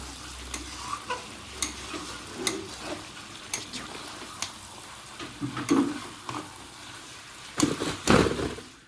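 Chicken meat frying with spices in a pan for a light potato chicken curry, with soft continuous sizzling broken by scraping stirs and bursts of louder crackle, close by.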